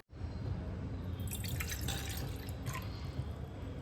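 Water pours steadily into a bowl of plain oats, a continuous close-up splashing and trickling with no voices.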